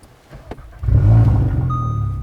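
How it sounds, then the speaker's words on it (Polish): A VW Golf VII R engine starts up close and loud, catching with a quick surge then settling into a deep, steady idle rumble. "Brzmi auto super."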